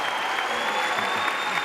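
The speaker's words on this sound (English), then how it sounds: "I'd like to hear this audience give you another round of applause" A conference audience at an opening plenary tribute to Muhammad Ali applauds the speakers, with brief, dense and steady clapping filling the room.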